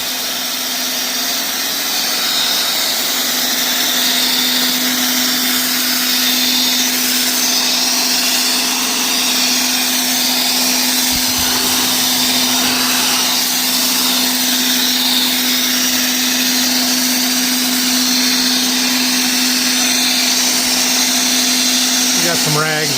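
A foam sprayer hisses continuously while coating a combine harvester with soap, a steady loud rushing whine with a constant hum, running alone without talk.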